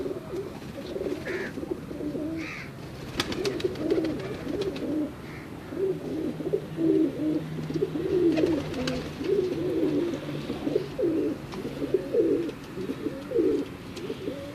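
Pigeons coo continuously in low, rolling phrases, moderately close, with occasional light clicks and fluttering around them.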